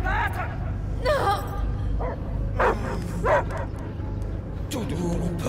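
Dog barking in the Marvel's Guardians of the Galaxy video game, several short separate barks and yips over a rumbling low game ambience.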